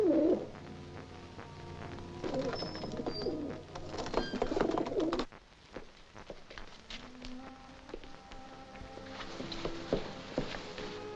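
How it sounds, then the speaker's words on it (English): Pigeon cooing in a palace setting, soft repeated coos with scattered bird calls and light pattering footsteps over a busy background of other sounds. "Release this pigeon as you leave the palace with Her Majesty."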